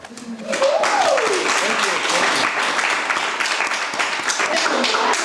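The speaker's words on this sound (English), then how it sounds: "Thunderous applause." Thunderous audience applause greets watercolor artist John Hewitt at an art talk, a dense, sustained wash of clapping that swells in and holds loud throughout, with a few voices and cheers mixed into the crowd.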